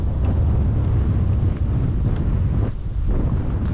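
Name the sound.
wind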